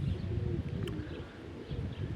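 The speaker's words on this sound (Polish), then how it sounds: "Jeszcze są za małe te gołębie i za mocno wie, na takie próby." Young pigeons from a Kirovohrad breed cooing softly in a loft, low murmuring coos heard close but faint over a quiet background, with no speech.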